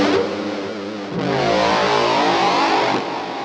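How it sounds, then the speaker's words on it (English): POD HD Pro synth tone built from a square wave fed through heavy distortion: a thick, buzzing, sustained note with a brief dip before it swells and holds steady, played alone. "I used the square wave, and it's followed by the heavy distortion"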